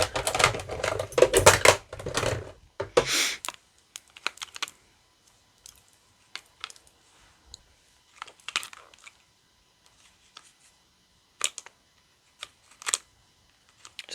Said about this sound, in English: Just trying to open this package up.